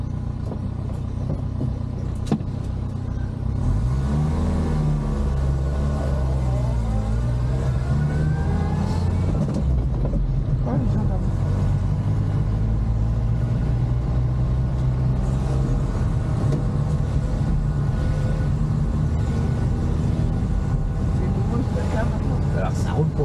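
A 1970 Renault R6 engine hums and revs while the car drives along, a steady low drone with rising and falling gear pulls, heard from inside the cabin under frequent conversation.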